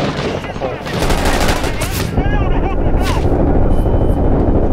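Dense bursts of automatic gunfire and shots crackle loudly and almost continuously in a Middle East military shooter game, with overlapping volleys and a player's voice talking underneath.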